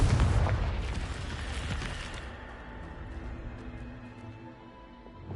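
A Confringo fire spell detonates in a video game, a loud booming blast up front whose rumble and crackle gradually fade away over the following seconds.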